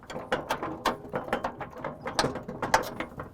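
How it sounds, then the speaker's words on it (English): Metal J-bolt being slid back into the top hole of an Outfitr 2-bike e-bike hitch rack carrier, a rapid series of sharp ratcheting clicks and clanks, close and distinct, with no talking. "Put the J-bolt back in on this top hole"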